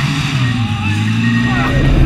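A car engine revs hard at full throttle, a steady loud drone with a slight climb in pitch, running close and unbroken for about two seconds.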